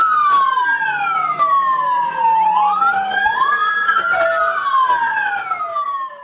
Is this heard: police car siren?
yes